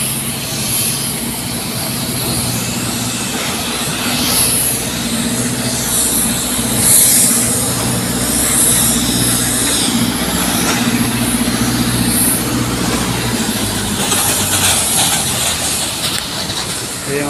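Aircraft engines drone loudly and steadily across the ramp area of an international airport Terminal 3, a continuous roar with swelling hiss and whine, no voices heard.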